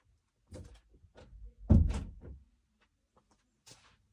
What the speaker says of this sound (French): je vais fermer la porte parce que ça fait du bruit